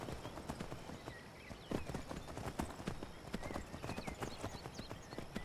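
Horse hooves clip-clop steadily in a Skyrim Special Edition game scene, a dense run of sharp, close hoofbeats carrying on without pause, with faint occasional whinnies and no talk over them.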